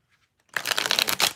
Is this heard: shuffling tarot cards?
yes